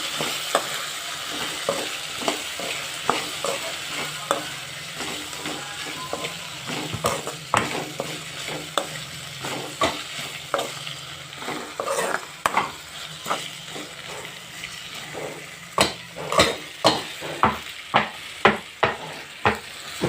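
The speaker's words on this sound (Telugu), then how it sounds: "బెండకాయలు వేసుకున్నాం కదా మంచి కలిపేసుకున్నాం కింద మంచి కలుపుకోవాలి" Okra sizzles in a hot pan while a spoon stirs it, producing repeated sharp scraping clicks that grow more frequent toward the end over a continuous frying hiss.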